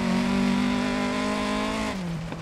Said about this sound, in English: I love the sound of the cars in this game